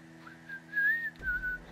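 A person whistles a short wavering tune, fairly faint and close, alone for under two seconds with a soft thump near the end.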